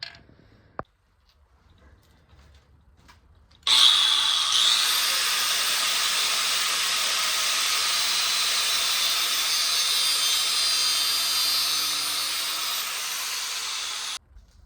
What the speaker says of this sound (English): Nice cut. Not bad for a grinder.